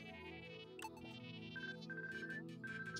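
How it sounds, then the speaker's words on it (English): A ringing communication device called the ferret phone in Pikmin 3 Deluxe repeats a high electronic ring several times over steady game music, loud and close with no one talking. "It's the ferret phone."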